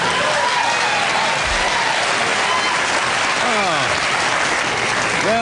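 A television studio audience gives loud, sustained applause throughout, dense clapping filling the room from start to finish.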